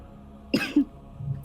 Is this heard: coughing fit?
yes